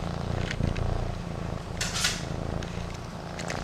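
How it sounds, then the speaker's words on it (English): A kitten purrs softly close by, a low rumbling pulse beneath quiet room noise and a few faint clicks. "can you hear him purring?"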